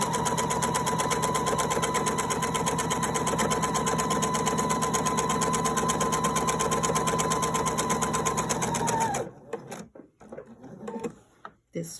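A sewing machine stitches steadily and loudly through thick fabric at a constant fast rhythm for about nine seconds, then stops, leaving faint handling noises.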